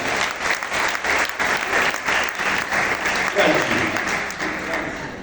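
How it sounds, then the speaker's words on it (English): A room full of people claps steadily, a dense patter of hands that holds for several seconds before easing slightly. "Let's give Martin a round of applause"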